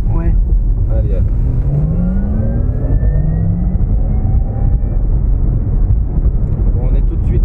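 A Porsche Taycan 4S electric car accelerates hard, heard from inside as a loud, dense road roar with rising electric motor whines sweeping upward over several seconds, continuous and close.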